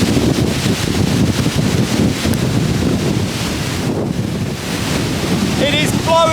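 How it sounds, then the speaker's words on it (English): A strong gale roars over the Wye Valley near Tintern Abbey, a loud, constant buffeting rush battering the microphone throughout, with a faint voice or whistle-like tones near the end. "It is blowing a gale."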